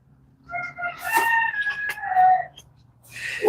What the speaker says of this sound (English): You hear the chicken? Sounds like he's being choked. He has a no-crow collar on.